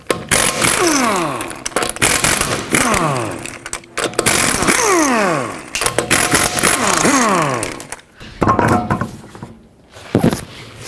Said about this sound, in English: Let's start by taking off the wheel. 4 19mm lug nuts.